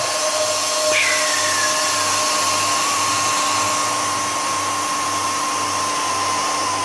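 Air rushing back into an evacuated vacuum chamber after a vacuum pump experiment, a loud steady hiss with a faint tone that slides down at the start, running unbroken for several seconds.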